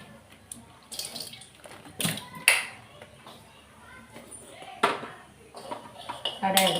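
A kadai pan is set down on a home kitchen stove, giving several sharp metallic clanks and knocks at uneven intervals. Softer clatter and faint water sounds run between the hits, and someone speaks in the background.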